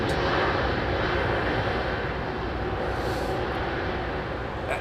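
A departing airliner on runway 27R at London Heathrow Airport, a loud, steady, broadband engine roar that holds without a break from start to finish.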